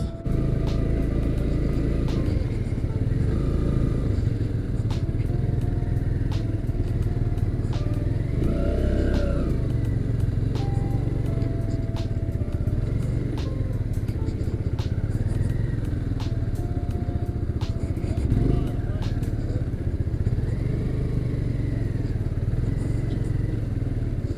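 A motorcycle idling at a training school while the rider works the clutch without throttle. A steady low engine rumble runs throughout, with small pitch shifts and occasional clatter. Close and continuous, with no speech.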